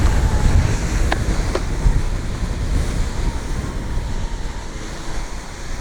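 Strong wind buffets the microphone while riding an efoil downwind over open water, a constant close rumble with faint surf underneath and a couple of brief ticks.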